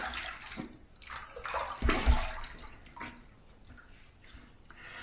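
Water splashes and runs as a safety razor is rinsed during a wet shave, a steady bathroom-sink wash with a louder burst of swishing midway, close and alone with no talk.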